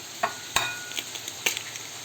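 Egg being stirred into an Ilocano eggplant and bagoong dish in a pan: a few sharp utensil clicks and scrapes at an uneven pace over a faint, steady sizzle.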